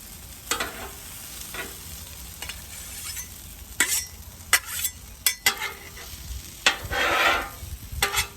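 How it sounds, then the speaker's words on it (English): Potatoes frying on a Blackstone griddle, with a low sizzle broken by sharp bursts of a spatula scraping and turning them, some quick and some drawn out, heard up close with no speech. "Make sure all those potatoes are getting cooked here."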